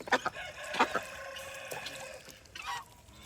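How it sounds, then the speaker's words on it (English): Geese on a farm animal sanctuary honk in several loud, harsh bursts close by, with shorter calls scattered between them and no talking. "I love these geese."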